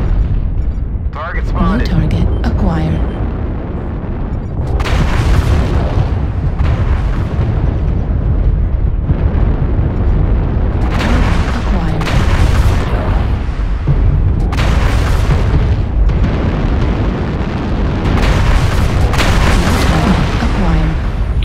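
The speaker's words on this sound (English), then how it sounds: "Artillery strike online" Artillery strike explosions in a mech combat video game with a Catapult C4 mech fitted with long-range missile launchers: repeated loud deep booms and blasts rolling one after another, while a synthetic voice gives short callouts over them.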